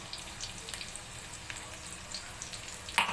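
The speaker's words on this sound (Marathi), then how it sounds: "तर मित्रांनो तेल तापलाय तो तापलाय एकदम टाकलंय लसूण" Garlic dropped into hot oil for a dry Agri-Koli style kilis fish curry crackles faintly and steadily, a soft close sizzle with small pops and a slightly louder burst near the end.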